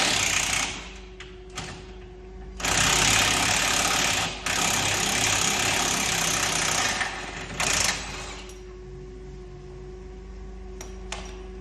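Loud bursts of whirring power-tool noise as a part is unbolted on a wrecked 2013 Jeep Cherokee SRT under repair, with three long runs separated by short pauses and a low idle-like hum underneath throughout.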